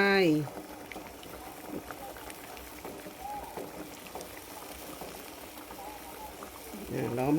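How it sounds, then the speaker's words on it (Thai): A pot of water bubbling at a steady simmer, continuous and close, with a voice speaking briefly at the start and end. "น้ำเดือดได้ตีแล้ว"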